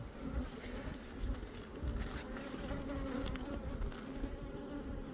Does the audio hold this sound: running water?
no